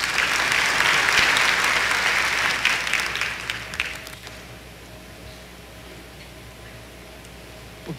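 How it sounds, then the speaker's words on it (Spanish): A church congregation applauds the Lord after a prayer, a loud dense burst of clapping for about three seconds that quickly thins and dies away, leaving a quiet room with a faint hum. "Le damos un buen aplauso al Señor."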